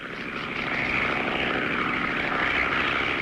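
A cartoon crop-duster plane makes its last low spraying run over a field, its propeller drone loud and steady, swelling a little as it passes close.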